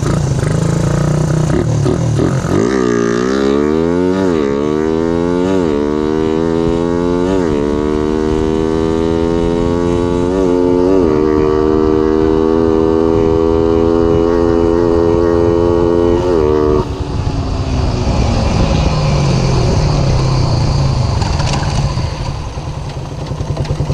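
A motorcycle engine with freshly changed carburetor jetting revs hard at full throttle, its pitch sweeping up and falling repeatedly in loud, close bursts before settling back toward a steady idle.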